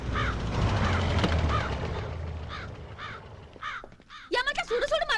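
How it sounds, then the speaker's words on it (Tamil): Crow cawing repeatedly in a rhythmic series of harsh calls, loud and close, over a background of voices and noise, ending in a burst of rapid caws. "படுத்த காக்கா கீழ வருது"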